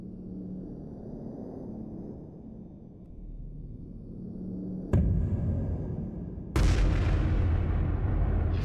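Two loud, deep booms of a large explosion in a film go off a couple of seconds apart over a low rumbling background, each leaving a heavy roaring tail.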